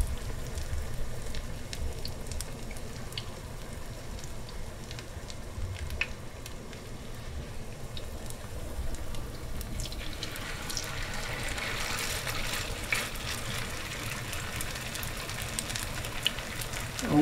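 Small batches of food fry in hot oil with a soft, continuous crackling sizzle that grows slightly busier toward the end, fairly quiet and without any talking.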